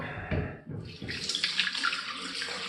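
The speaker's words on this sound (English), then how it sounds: "some cold water on this" A tap is turned on and water runs into a sink, a close, steady gushing splash with a few knocks at the start.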